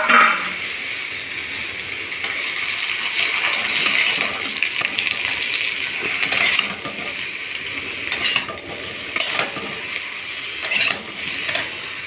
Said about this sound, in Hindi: आलू और बैगन इसमें हम डालेंगे